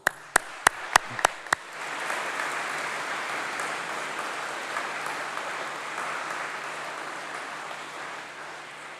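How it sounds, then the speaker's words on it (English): Applause fills a great hall at a summer university graduation ceremony, a few sharp early claps quickly swelling into steady, sustained clapping from a large audience that holds evenly to the end. "Let's give them a big round of applause."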